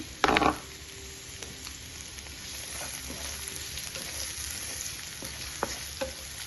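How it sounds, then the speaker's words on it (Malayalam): Chopped onion sizzles steadily in coconut oil in a pan, a close, even frying hiss with a brief louder burst at the start and a few faint clinks of stirring. "വെളിച്ചെണ്ണ ഒഴിച്ചു കൊടുത്തേ അപ്പം അതിൻ്റെ അകത്തോട്ട് സബോള അരിഞ്ഞതിട്ട് കൊടുക്കാവേ"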